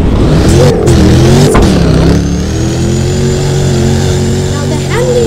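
A Land Rover in the video game Driving Empire gives a steady mid-pitched engine drone whose pitch rises and dips as it accelerates. It plays loud and continuous while a person talks over it.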